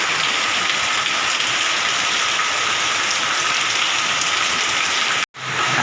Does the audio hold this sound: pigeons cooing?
no